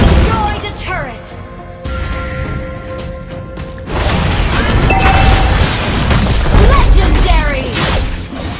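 A turret is destroyed in the Mobile Legends video game, giving a loud booming crash and burst layered over game music and effects, with an announcer voice over it.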